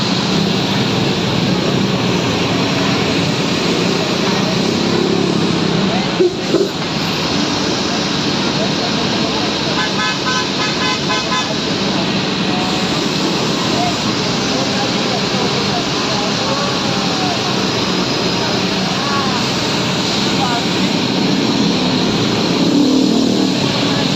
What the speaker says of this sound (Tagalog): Traffic na kami, guys. Kasi uwian na ng mga estudyante.